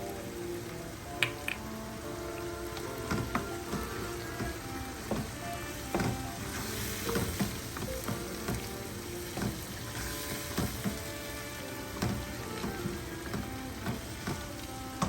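Tomatoes cooking with masala and ginger garlic paste in oil for chicken palak makhni, a soft continuous sizzle broken by irregular pops, spits and scrapes, fairly quiet and close, no voices.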